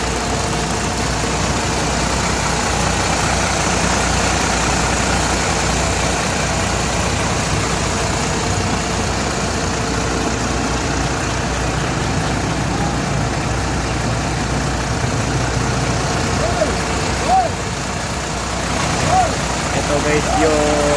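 The engine of a Volvo sleeper bus idles in a steady, continuous drone that stays close and even from start to finish, with faint background noise under it.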